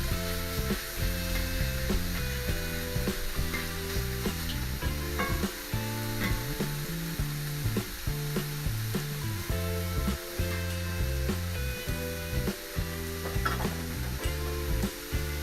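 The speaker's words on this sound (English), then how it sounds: "Then add your diced bacon to the plancha." Diced bacon and fries sizzling on a hot steel plancha, a dense steady frying hiss under rhythmic scraping and clacking of a spatula against the metal, close and continuous with no talking.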